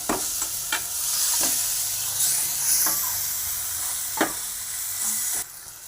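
Ground tomato sautéed in a pan for crab rasam sizzles and hisses steadily, with a handful of sharp spoon scrapes and taps against the pan breaking through before the frying noise cuts off near the end.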